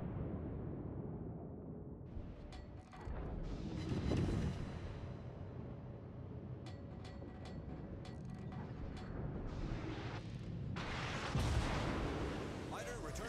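Warship main guns fire in World of Warships at an American Colorado battleship, distant booming salvos and sharp cracks over a steady low rumble of engine and sea, fairly quiet overall.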